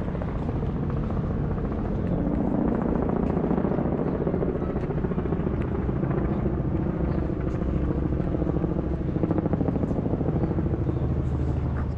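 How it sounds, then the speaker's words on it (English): Helicopter rotor thumps and engine roar fill the air steadily overhead in downtown San Antonio, Texas, loud and sustained for the whole stretch with no speech. "Typical helicopters flying over."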